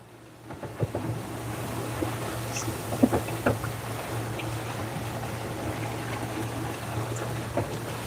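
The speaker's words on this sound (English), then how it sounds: "we are downwind sailing" Sailboat running downwind on the open ocean between Vanuatu and the Solomon Islands, a steady rush of wind and water against the hull with a low drone, occasional splashes and creaks, loud and continuous.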